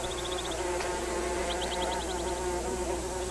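Male bees or wasps buzz in flight around an orchid flower in a 1998 orchid documentary setting, their steady insect drone heard close and continuous, with soft pulsed wingbeat chirps recurring through the scene.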